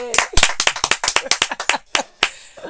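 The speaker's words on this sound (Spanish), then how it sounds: "¡Aplausos!" A studio audience on a Spanish-language talk show claps in a brisk burst of sharp, distinct handclaps, a dozen or so crisp hits that thin out toward the end, with a voice briefly present.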